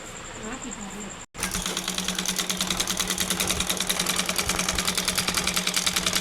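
After a brief pause, a sewing machine stitches blouse fabric in a fast, even mechanical chatter that runs steadily to the end, close and clear, with a faint voice underneath.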